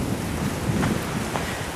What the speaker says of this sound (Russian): Сегодня такой шторм, штормит море.